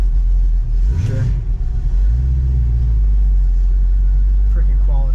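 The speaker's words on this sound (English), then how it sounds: "It's got a cam. nice lopey cam sound." A 1965 Ford Mustang Fastback with a big-cam V8 idles around 600 RPM, a deep uneven lopey rumble held loud and close throughout, with a brief blip of revs near the start.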